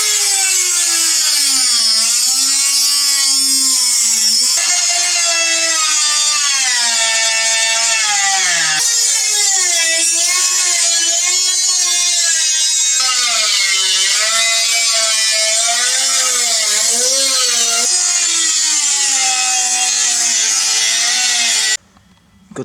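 A power tool cuts rusty metal out of a Toyota Hilux body, a loud, continuous, close whine whose pitch rises and sags as the blade bites, running without a break for about twenty seconds before cutting off abruptly.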